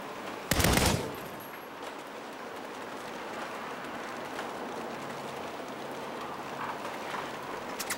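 Gunfire in a Saints Row shootout: one sharp loud burst right at the start, then a dense rattling fusillade that carries on without letup underneath.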